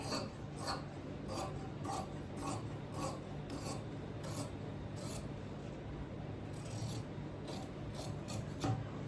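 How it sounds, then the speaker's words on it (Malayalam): Scissors cut through fabric for a kurti collar in a run of quiet, close, rhythmic snipping and rasping strokes repeated every half second or so over a soft background, with no talking. "ആ തുണി നമ്മൾ ആ ഒരു ഷേപ്പിൽ തന്നെ കട്ട് ചെയ്തെടുക്കുവാണേ"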